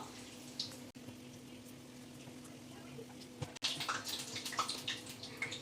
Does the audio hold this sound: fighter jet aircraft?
no